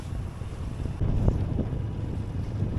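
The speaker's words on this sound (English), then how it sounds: "I've got 20 knots of wind blowing me off" Wind at about 20 knots blows across a single-handed sailboat at sea, a steady gusty roar buffeting the microphone with a low rumble of water underneath.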